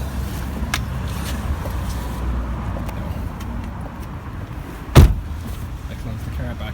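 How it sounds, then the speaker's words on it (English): Car-share car being closed up: a steady low engine or cabin hum runs throughout, broken by a single sharp, loud door thud near the end and a few lighter clicks. "I close the car back up."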